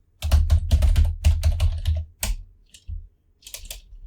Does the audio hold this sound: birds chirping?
no